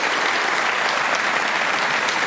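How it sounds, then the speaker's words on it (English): Spectators at the World Snooker Championship give a warm, continuous round of applause for a debut century break, dense and steady throughout with no talk over it. "You'll get a terrific round of applause for this"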